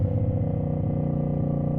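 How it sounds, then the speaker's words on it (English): CFMOTO 450ss motorcycle after an ECU flash, its engine held at a steady, loud rev with a dense low drone throughout, close up and with no talk. "Oh, it's so much more responsive with revving."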